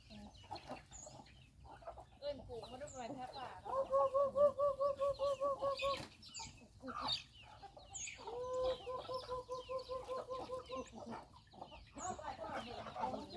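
Hens cluck in rhythmic, repeated bursts close by, with a rooster-like call and scattered farmyard chatter, plus faint talking in the background.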